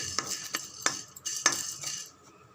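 A utensil scrapes and clinks against a pan while black pepper and curry leaves are dry-roasted, with several sharp metallic taps in an uneven rhythm and a faint sizzle between them.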